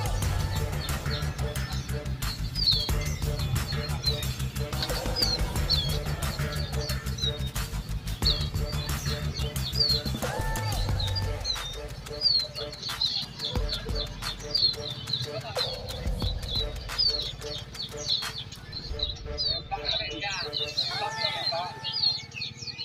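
Songbirds at the Curug Tangerang bird market chirp and tweet in scattered bursts, with occasional cooing doves nearby and people talking throughout in a busy market setting.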